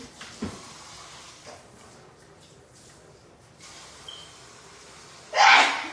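A single sharp sneeze bursts out near the end after quiet background noise, loud and close.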